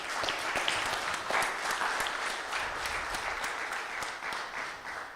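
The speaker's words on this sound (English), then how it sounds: "Can we give them a clap?" At a conference, an audience claps for the camera crew, a steady, full round of many hands heard from a little distance, even and continuous with no voices on top.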